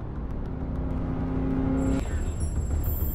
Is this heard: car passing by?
yes